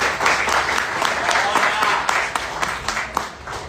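A church congregation claps and applauds steadily, a dense patter of many hands with a few louder claps standing out, while voices mix in.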